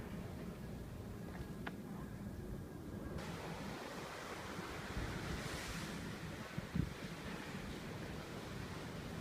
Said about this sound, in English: The incoming tide is lapping along the shores of the Thames.